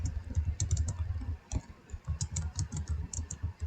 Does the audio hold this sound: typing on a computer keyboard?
yes